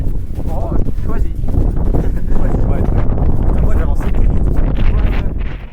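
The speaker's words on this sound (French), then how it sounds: "Un peu de vent." Wind at a paragliding takeoff, a loud, continuous buffeting rush hitting the microphone, with people talking over it.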